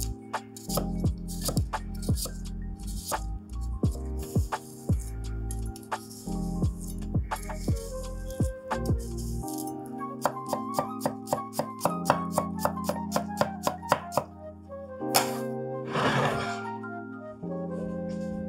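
A kitchen knife slices a stack of mint leaves into chiffonade on a cutting board, making quick, close, rhythmic chopping taps in bursts with short pauses between them.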